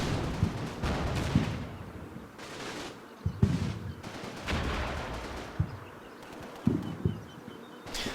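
Bursts of machine gun fire and scattered gunshots from a World War II battle in the strategy game Combat Mission: Battle for Normandy, with a tank's machine gun raking infantry, sharp repeated reports over a constant rumbling battlefield din.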